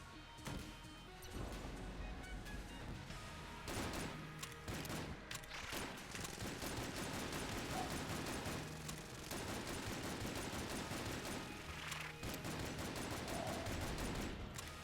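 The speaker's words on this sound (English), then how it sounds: "I will use the Plague Pistol." Plague Pistol fire in Enter the Gungeon: rapid, dense shots with crashing impacts pour out almost continuously for the whole stretch, broken by a few short lulls.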